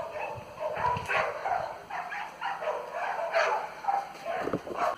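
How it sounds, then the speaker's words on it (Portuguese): Several dogs bark, yip and whimper in a rapid, agitated tussle, close by, with snarling bursts throughout. "Olha os cachorros, estão brigando."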